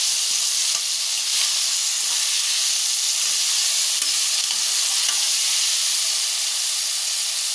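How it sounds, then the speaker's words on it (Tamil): Vegetables being sautéed with salt in a pan for Chettinad-style sambar: a steady, close sizzling hiss runs throughout with occasional scraping stirs, and no voices. "சத்தான உப்பு போட்டு நல்லா வதக்கிக்கணும்"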